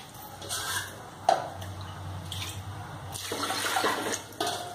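Water is poured from a glass into a pressure cooker holding beans, giving a steady splashing rush with a few louder gushes through the pour, close and alone with no voices.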